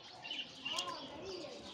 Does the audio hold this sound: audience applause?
no